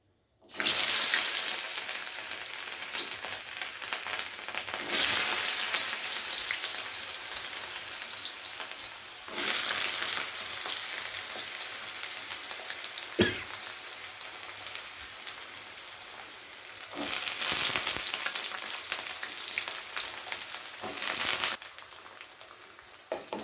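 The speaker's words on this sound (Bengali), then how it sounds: "গাজর আর আলুটাকে প্রথমে হালকা আমাদের ভাজা ভাজা করে নিতে হবে" Carrots and potatoes fry in oil with a mustard-seed tempering for a Bengali vegetable paneer dish. A continuous close sizzle and crackle carries on throughout, broken by several louder bursts of spattering as the vegetables are stirred.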